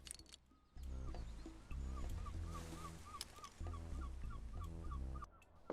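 Ambience aboard a pirate ship in a video game: repeated creaks and squeaks of the ship's timbers in a recurring rhythm, layered over low wave wash and faint distant seagull calls.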